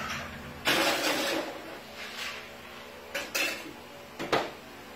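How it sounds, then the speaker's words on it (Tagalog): Ice drops into a large drink shaker in a few sharp clattering bursts. A loud rattling pour is followed by shorter clinks and knocks, close and clear with no talking. "paglalagay po ng ice sa ating shaker, sa large po, lalagay po natin ito na hanggang 500 po"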